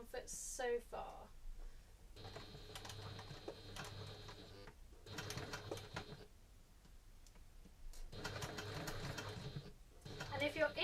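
An HD9 sewing machine fitted with a Teflon foot stitches a coin purse in several bursts of steady, rapid mechanical whirring separated by short pauses, with someone talking over and between the runs.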